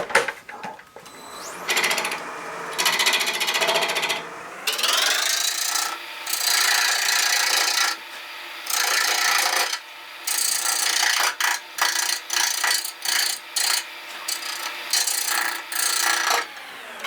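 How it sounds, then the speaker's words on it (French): A wooden figurine on a wood lathe is scraped with a carving tool, giving loud, close, rasping scrapes in long strokes that break into rapid repeated bursts, with no talking. "naturellement, on gratte beaucoup"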